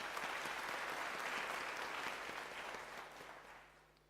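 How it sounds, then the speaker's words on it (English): Faint, distant applause from a graduation ceremony audience for a lecturer, steady dense clapping that gradually fades over about four seconds. "Let us give her another round of applause, ladies and gentlemen"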